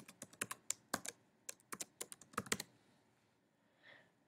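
Typing a new username on a computer keyboard: a quick run of crisp, close key clicks for about three seconds, irregular in rhythm, then a pause and a faint soft sound at the end.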